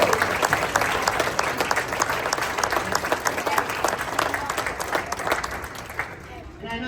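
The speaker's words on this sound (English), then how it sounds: "if all seniors can stand and we can give you a round of applause" A room full of people at a high school hockey banquet clapping for the seniors, steady even applause with a few cheers, gradually thinning out toward the end.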